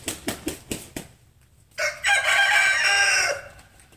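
A rooster crows loudly and close by in one long drawn-out call, preceded by a quick series of sharp clucks or short clipped sounds.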